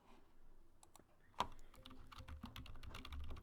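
Quick, uneven clicks of typing on a computer keyboard, close and fairly quiet, with one sharper keystroke standing out among the rest.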